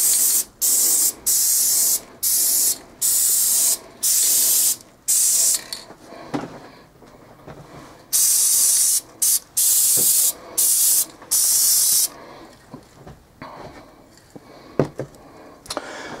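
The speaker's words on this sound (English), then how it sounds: "Helps reduce the amount of time it takes to spray one of these things" A spray paint can hisses in repeated short bursts, about a dozen sprays in a steady rhythm, followed by quieter rattling and handling noises.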